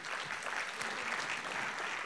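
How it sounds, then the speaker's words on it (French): An audience at a conference talk applauds a Microsoft startup ecosystem lead, a brief, steady burst of many hands clapping at moderate level with no clear voices over it. "on peut l'applaudir"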